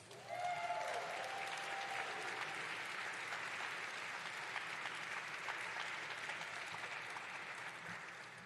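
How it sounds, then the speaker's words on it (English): A conference crowd applauds honorees receiving the Reverend Jesse L. Jackson Freedom and Justice Award, dense steady clapping sustained throughout and tapering slightly at the end. "Please give them a round of applause."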